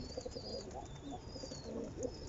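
Low, soft cooing of pigeons, several murmuring calls overlapping at a moderate distance, with faint background noise.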